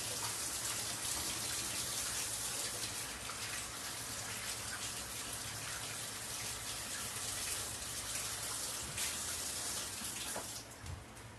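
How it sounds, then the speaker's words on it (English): A kitchen tap runs steadily while hands are washed under it, a close, even hiss of water with slight splashing that ends near the close. "I'm going to wash my hands."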